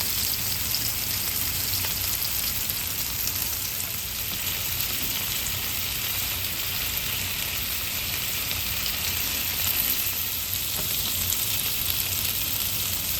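Bacon and chicken skin wraps pan-frying over medium heat, giving a steady, close sizzle that continues without pause, with no talking.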